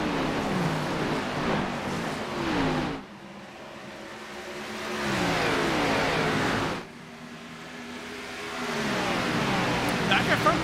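Stock car engines roar through a racing video game during an Xfinity Series playoff race at the Monster Mile, in loud sustained sweeps that rise and fall as cars pass, under a commentator's voice.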